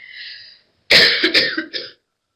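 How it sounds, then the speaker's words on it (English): A lecturer gives a short run of harsh, close coughs and throat-clearing after a brief faint tone, then silence. "My apologies for frequent coughing"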